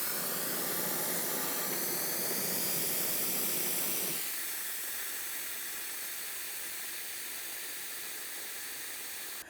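Steady hissing suction draws old brake fluid out of the master cylinder on a 2007-2014 GMC Sierra 2500 HD, loud and close, then drops to a quieter, thinner hiss partway through.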